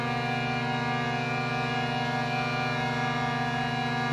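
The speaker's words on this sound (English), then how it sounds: "our horn sounds like this" A horn sound effect in a sports video game, played as a steady, sustained, loud blaring tone with strong harmonics that holds for about four seconds without talk.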